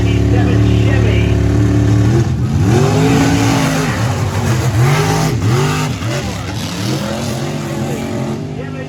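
Freedom Express, a 1997 Chevy monster truck with a big block Chevy engine, races at Lebanon Valley. The engine holds a loud steady drone, then revs hard in repeated rising and falling surges, with an announcer talking over the engine and a crowd in the background.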